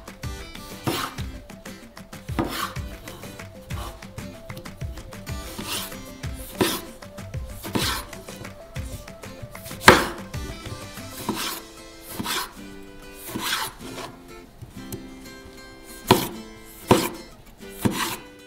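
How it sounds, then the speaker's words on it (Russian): A knife chops cherry tomatoes on a cutting board in irregular clusters of sharp taps, close and distinct, with brief pauses between runs of cuts. "поэтому нарезаем помидорки черри."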